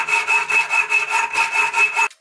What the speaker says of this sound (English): Now we will remove this part with a metal saw.